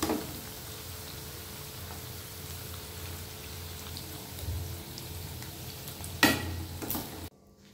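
Drumstick flower fritters (bora) sizzle steadily in deep oil with close, continuous crackle, a louder burst of spatter and a clatter near the end before the sound cuts off abruptly.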